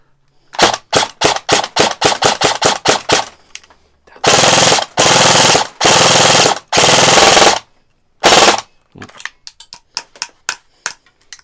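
Airsoft gun test-fired while checking for misfeeds: a run of quick single cracks, then several sustained full-auto bursts, followed by another scattered string of sharp shots, loud and close with no talk.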